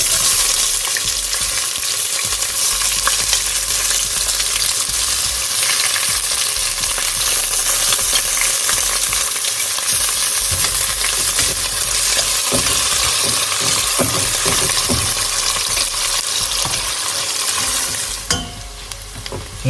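Onions fry for lamb curry in a hot pan, giving a loud, dense, unbroken sizzle with faint occasional stirring clinks that goes on throughout.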